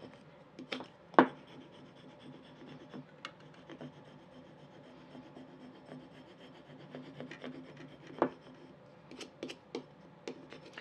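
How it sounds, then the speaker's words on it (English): Scraper tool rubbing Cricut vinyl onto a glass jar label, a soft, irregular scratching and rasping near the microphone with a few sharper scrapes among the gentler strokes, and no talking. "go back with your scraper tool and really get it down"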